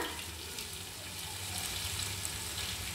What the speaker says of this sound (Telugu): ఇది బాగా అల్లం వెల్లుల్లి పేస్ట్ కొంచెం ఫ్రై అవ్వాలండి